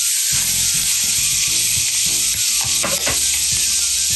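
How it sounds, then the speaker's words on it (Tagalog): Mushrooms sautéing with onion and garlic in a pan, a bright continuous sizzle with scraping stir sounds and occasional louder bursts of crackle. "binigisa ko na ngayon yung sibuyas at bawang. And then I'll add the mushrooms."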